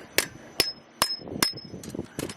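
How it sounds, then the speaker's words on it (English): Four sharp metallic hammer blows ring out at a steady pace on a Yamaha Blaster flywheel during stator removal, then clatter and scraping of loose metal parts close by. "you give it a hammer in the back"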